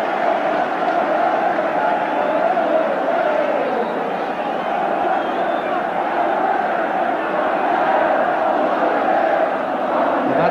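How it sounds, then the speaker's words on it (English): A large football crowd roars and cheers after a Tottenham goal in a packed stadium, a loud, dense wall of voices that holds steady throughout without dying down. "And that's awoken the crowd from its slumbers."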